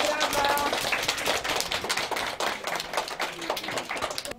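Applause from the audience at a children's recitation contest in a public library branch, a dense patter of many hands clapping close by, with faint voices mixed in at the start.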